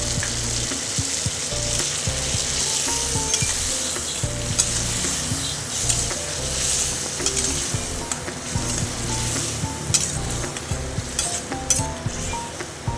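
Mustard paste frying and being stirred into well-sautéed chicken in a pan for mustard chicken, with a steady close sizzle and repeated scraping stirs throughout, no talking.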